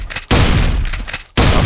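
Gunfire in the video game Bigfoot Hunting erupts in loud, dense bursts, one sustained volley lasting about a second, a brief lull, then another burst starting.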